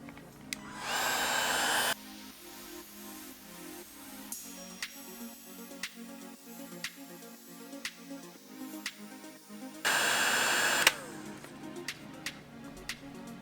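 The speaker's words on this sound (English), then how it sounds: "use your heat gun or lighter" A heat gun blows to shrink a heat-shrink connector on wiring during a Mishimoto electric fan install in a Honda CRX. Two loud, steady blowing bursts, each about a second long, are separated by quieter handling sounds.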